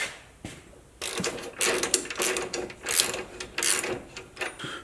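A nut being tightened on a rear shock during a Clayton Offroad 2.5-inch lift install on a Jeep JLU: a rapid ratcheting wrench clicks in uneven bursts, close and fairly loud, with some metallic rubbing.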